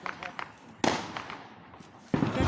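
Fireworks and firecrackers burst close by in a Bulgarian village at the New Year, sharp loud blasts with crackling tails amid excited voices of people calling out.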